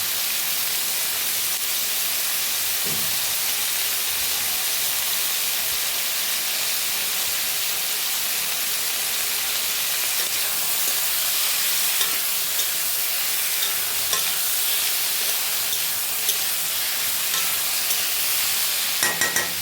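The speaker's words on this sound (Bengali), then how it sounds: "টমেটো কুচানোটা দেওয়ার পর একটু ভালো করে নেড়ে নেবো আবার" Chopped tomato stirred in a hot pan with oil while making a Bengali light fish curry with ridge gourd; a steady loud sizzle and hiss runs throughout, with occasional scrapes of the spoon against the pan.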